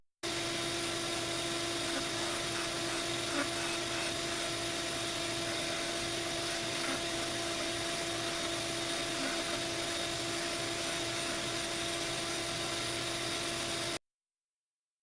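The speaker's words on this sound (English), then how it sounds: "Now I'm just going to bring it back to the sander and put a taper on both ends." A sander shapes a taper onto the ends of a plywood clamp, giving a steady, loud, continuous machine whine with a constant tonal hum that runs unbroken for the whole stretch, with no talking.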